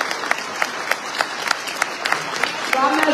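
Audience at a SOS România political rally in Craiova clapping, a crisp crowd applause with sharp individual claps standing out, steady throughout and swelling slightly at the end.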